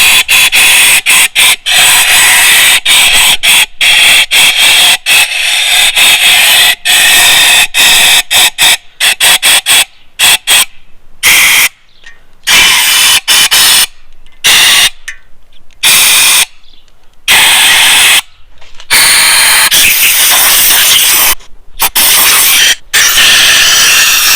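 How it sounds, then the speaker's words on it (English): Compressed air blasts through the oil galleys of a Jeep 4.2 liter 258 CID engine block during a rebuild: loud, close hissing in rapid short bursts that lengthen into longer on-off blasts with brief silent gaps. "Just put compressed air in your galleys and feel around and see where it's coming from."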